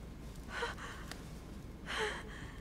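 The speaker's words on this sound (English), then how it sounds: "Her breathing is becoming stable and..." A woman's breathing in the video game The Council: two distinct breathy exhalations or gasps, close and fairly soft, separated by about a second of quiet room tone, with no speech.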